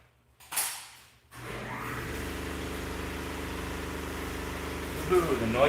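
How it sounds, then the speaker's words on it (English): A noisy air compressor in a garage kicks on and runs with a steady low droning hum, loud and continuous, after a brief burst of noise. "Ooh, the noisy air compressor turned on."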